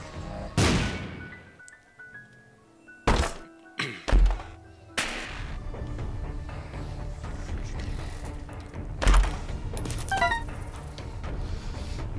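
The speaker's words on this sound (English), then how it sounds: "Can I actually put a bomb here?" Several loud, booming explosions from bombs placed in The Binding of Isaac: Rebirth, spaced over the clip amid game background sounds, followed by bright chiming pickup tones near the end.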